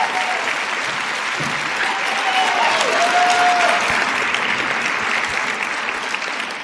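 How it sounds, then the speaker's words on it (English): A large audience at an American Chemical Society meeting gives sustained applause to a musician, a thick, even wash of many hands clapping that holds loud and steady throughout, with a faint voice briefly audible beneath. "Big round of applause"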